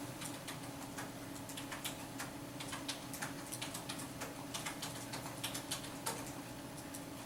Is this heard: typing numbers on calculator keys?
yes